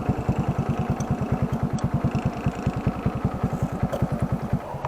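A motorcycle with a loose chain idles nearby, its engine thumping in a steady, fast, even beat that stays loud and constant throughout.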